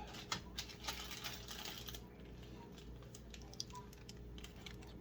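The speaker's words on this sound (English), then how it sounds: "Put another zip right here, try to make this look a little bit better." Zip ties cinched tight around PC cables during case cable management make quick, clicky ratcheting ticks in short irregular bursts, close up and quiet.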